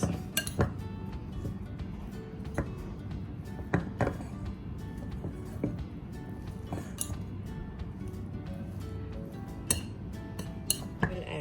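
Chicken sandwich filling is mixed in a bowl, with repeated clinks and taps of a utensil against the dish in an irregular rhythm, close and fairly quiet, with no talking.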